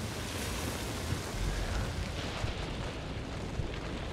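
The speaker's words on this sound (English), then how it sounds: "the noise from the fire is just like, you know, covering all the noise" In the video game Hunt Showdown, a fire burns with a steady, dense roar and crackle, broad and unbroken, holding at a moderate level throughout with no voices.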